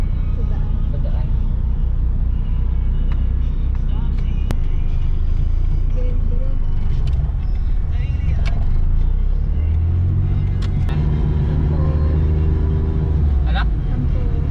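A Suzuki Alto 800 driving along a road in Cavite, Philippines, with a steady, loud engine rumble and road noise throughout while people talk inside the car.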